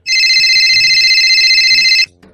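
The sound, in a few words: mobile phone ringing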